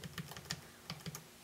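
Keystrokes on a Bluetooth keyboard paired with a Nexus 7 tablet, a quick irregular run of crisp, fairly faint clicks close by, with no talking.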